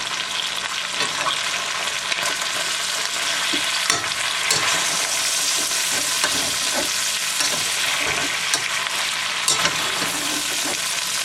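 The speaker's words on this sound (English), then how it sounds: "And you stir it all up with the" Chicken stir fry sizzles loudly and continuously in a pan, with scraping and clattering as it is stirred and tossed, no voices.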